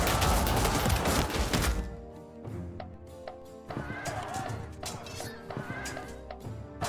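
Cavalry horses in the strategy game Field of Glory: Empire, with a loud opening burst of galloping and clatter, then sharp whinnies and neighs over scattered hoof clip-clops.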